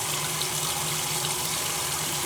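A washing machine filling with warm water during an RV unwinterizing job, a steady, continuous rushing hiss of inflowing water with a faint low hum underneath.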